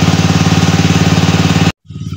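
A Robin engine on a grass cutter runs loud and close with a steady rapid throb, cuts out abruptly, then comes back after a brief gap.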